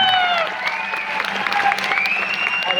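Steady applause from an audience fills the clip, a dense continuous patter of many hands clapping, with a sustained tone running over it.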